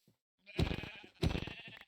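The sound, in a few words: sheep bleating in video game Minecraft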